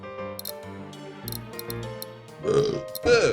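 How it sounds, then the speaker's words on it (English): Two loud, guttural burps come late, one after the other, following a stretch of clicking, tonal game sounds, with no one talking over them. "This burp."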